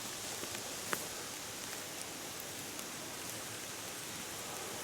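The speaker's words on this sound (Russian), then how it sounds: "Дождь идет" Steady rain falls in a forest of large fir trees, a soft even hiss of drops with a few faint isolated drips, continuous and fairly quiet, with no voices.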